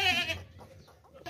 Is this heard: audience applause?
no